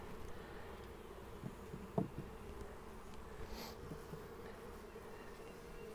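Honey bees swarm at a swarm trap, giving a faint, continuous buzzing drone in the open air with a few soft knocks and brief louder passes, and no voices.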